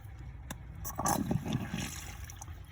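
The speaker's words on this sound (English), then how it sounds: "It's going to let the water, whatever's left, out of the system." Water draining out of a garden irrigation system through an opened automatic valve, a steady rushing hiss with a brief gurgling surge, fairly close and continuous.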